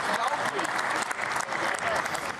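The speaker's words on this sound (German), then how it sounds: "Scheer bekommt da viel Applaus aus Ihrer SPD" SPD members in the Bundestag chamber applaud loudly after a budget debate speech on economy and climate, with close, continuous clapping and some voices mixed into it.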